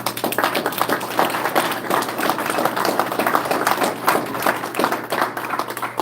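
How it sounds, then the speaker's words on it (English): Applause from an audience at a community gathering, steady dense clapping that fills the room for the whole stretch, with no pauses or voices on top. "let's give him another round of applause"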